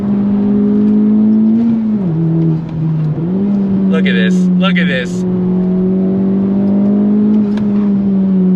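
Modified FK8 Honda Civic Type R under full throttle from about 4,000 to 7,000 RPM, a loud close engine note climbing steadily with a brief dip at a shift, while someone talks excitedly over it.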